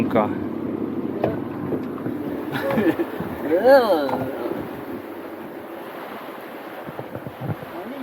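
Wake from two passing boats slaps and sloshes against a small fishing boat on the Emajõgi river by the Suursoo marsh in Estonia, heard under ongoing talk and low engine hum.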